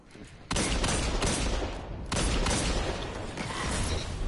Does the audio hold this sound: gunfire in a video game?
yes